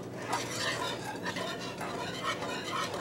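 A spoon stirs vanilla into homemade pumpkin spice creamer with quick, repeated scraping and clinking against the container, close up and alone.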